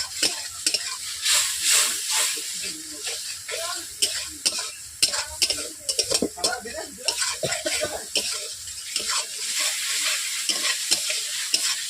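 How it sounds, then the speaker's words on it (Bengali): Spice paste with turmeric fried and stirred with a splash of water in a wok (kadai) while cooking rohu fish curry, giving a steady close sizzle broken by repeated scraping strokes of a spatula throughout. "এইভাবে মশলাটাকে আমি পানি নিয়ে কষতে থাকবো।"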